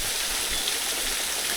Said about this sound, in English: The trail goes under the leaking penstock here.